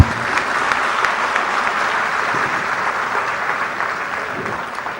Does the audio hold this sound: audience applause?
yes